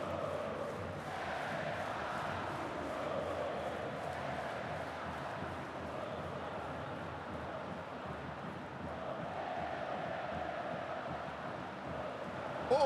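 Crowd noise fills Maracanã stadium during a Flamengo versus Bahia Campeonato Brasileiro match, a steady, dense roar of thousands of fans that holds at an even level throughout, with a brief louder swell at the very end.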